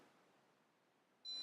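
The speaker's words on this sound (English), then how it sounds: "as soon as they hear the beep, move it away again" KIBO educational robot gives a short electronic beep after scanning a block barcode, a single bright tone arriving near the end of the clip and ringing out over quiet room background.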